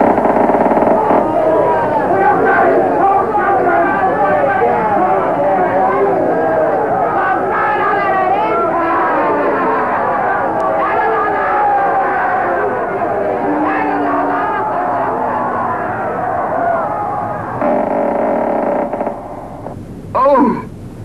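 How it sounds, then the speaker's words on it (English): A bustling marketplace below a royal window, full of many overlapping voices chattering at once in a steady, dense crowd murmur that runs throughout before thinning briefly near the end. "Let me open the royal window and listen to the marketplace below."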